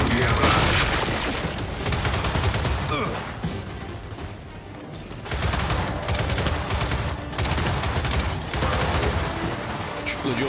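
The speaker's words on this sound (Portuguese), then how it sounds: "Explodiu lá." Gunfire and explosions fill a Gears 5 combat scene: dense, loud bursts of shots and booms that run almost continuously, with a brief lull midway. Speech mixes in with the fighting.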